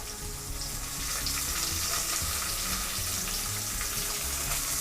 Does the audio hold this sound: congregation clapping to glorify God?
no